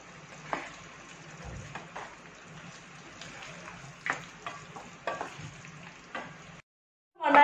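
Chilly chicken gravy being stirred with stock in a pan, giving soft sizzling with scattered scraping clicks of the spoon against the pan, fairly quiet and close, then a brief silence and a sharper clatter at the end.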